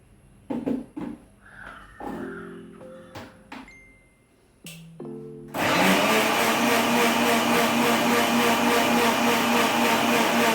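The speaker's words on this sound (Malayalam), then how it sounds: "ഇനിയിപ്പോൾ അത് മിക്സിയിലേക്ക് ഇട്ട് കൊടുത്തിട്ട് വെള്ളവും ഒഴിച്ചിട്ട് അത് പേസ്റ്റായിട്ട് നല്ലോണം ഒന്ന് അരച്ചെടുക്കണം" A kitchen mixer grinder whirs loudly and steadily, grinding coconut with water into a paste, after a few clinks and taps of loading the jar.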